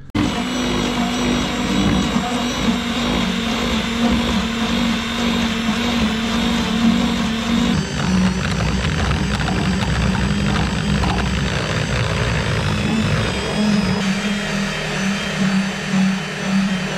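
An eraser wheel on a power tool strips emblem adhesive from a car body, a loud, steady high-pitched whine with a strong droning tone that holds continuously, shifting pitch slightly as the wheel is worked around.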